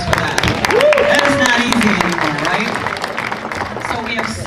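Audience applause and cheering swell at the start and trail off at a political gathering, with clapping spread across the room and a voice talking over it.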